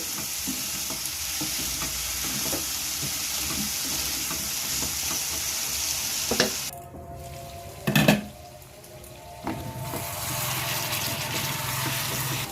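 Curry masala for mutton curry with potatoes and papaya sizzles steadily in the pan while a spoon stirs and scrapes it, with a few louder clinks and knocks along the way.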